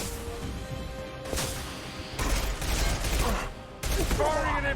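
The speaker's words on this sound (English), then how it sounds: "Firing an impact shot." Impact shot weapon fire in Mass Effect 2, a few sharp, heavy bursts arriving in separated blasts with crackling energy tails, loud and close, with game ambience and faint voices between them.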